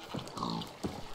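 Minecraft pig oinking in a video game, a few short grunting oinks spaced across a brief moment at moderate level, with no talk over them.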